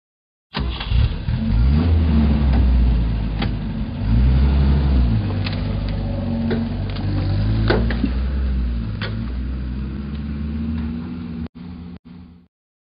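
A toy four-by-four vehicle's engine revs for about ten seconds as a loud, steady rumble that swells and dips. A couple of short bursts follow near the end.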